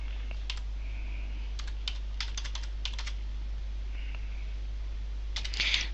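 Computer keyboard typing as a password is entered, short bursts of light key taps separated by pauses, close over a steady low hum, with no speech.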